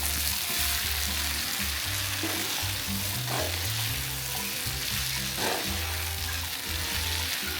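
Brinjal and potato fried together in a pan and mixed, a dense continuous sizzle with a low rumbling undertone and a couple of spatula scrapes, close and steady throughout, no speech.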